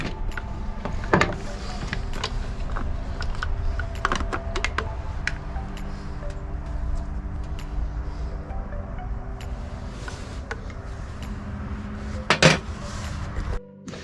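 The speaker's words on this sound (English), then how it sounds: "I'm going to pop out the hoses here" Hoses are popped off the carburetor of a Stihl HT 131 pole saw during a repair for a no-start fault, giving faint clicks and light plastic clinks over a steady background hum, with a sharper snap near the end.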